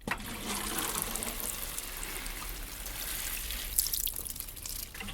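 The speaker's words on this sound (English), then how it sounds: "It's a watering can." Water pours steadily from a watering can, a continuous splashing trickle with bright hiss, fairly quiet and alone without any talk.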